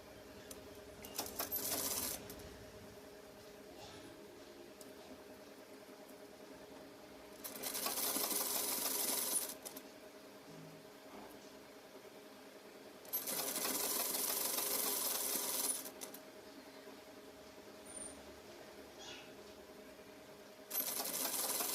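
A sewing machine stitches lace onto the bottom of a trouser leg in three bursts of rapid, steady whirring and clattering, close and clear, with quiet pauses between runs and no voices.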